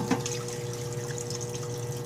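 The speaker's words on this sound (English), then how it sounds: "you just go ahead and just wash your parts" An Eastwood 20 gallon parts washer runs its pump, cleaning fluid streaming and splashing steadily over parts being washed, a continuous close watery rush with a faint hum beneath.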